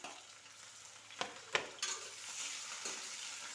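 Onions and tomatoes fry in a pan for a broiler chicken salad, with a continuous sizzle broken by a few sharp scrapes and clinks of stirring against the pan.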